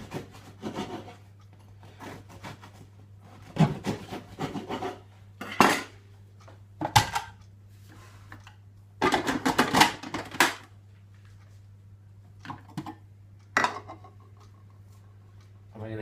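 A knife saws through a stale loaf of bread in a home kitchen, making repeated dry, rasping strokes in irregular bursts with pauses between slices, close by over a low hum.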